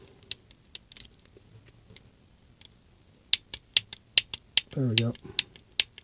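Sharp, dry clicks from a Harbor Freight 1/4 inch torque wrench, more than a dozen in an irregular series, mostly in the second half, close and fairly quiet, with a brief voice speaking among them.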